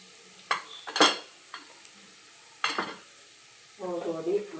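Onions with turmeric powder frying in a pan, close by, a soft sizzle under a few sharp spoon scrapes and clinks against the pan, then a burst of busier stirring near the end.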